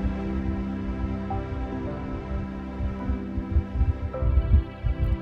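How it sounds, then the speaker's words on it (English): Low, muffled heartbeats of several people throb steadily beneath a constant humming drone. "Within it, you can hear the heartbeats of the individuals"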